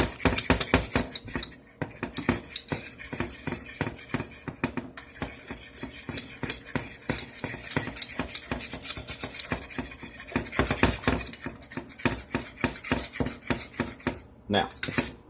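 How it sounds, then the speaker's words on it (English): A spoon scrapes and stirs a thick, gravy-like white sauce in a pan: constant rapid metallic clinks and rubbing strokes, close and busy, with no talking. "stir this constantly."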